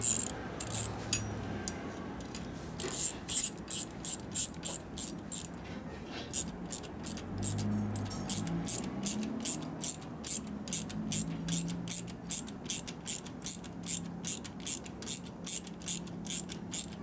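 A ratchet tightens a new lock nut on a Harley panhead motor, clicking in rapid, regular bursts with short pauses between strokes, close and fairly clear over a faint background.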